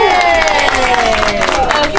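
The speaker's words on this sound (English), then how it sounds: "let's have a round of applause for our Mosh Baby" Crowd applause and cheering at a children's Mosh Baby fashion show, steady clapping mixed with excited voices and a whistle-like tone running throughout.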